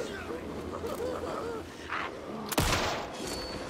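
Gunshots in the horror video game Alan Wake 2: a single sharp loud crack near the end, over a murmuring ambient bed and a low voice.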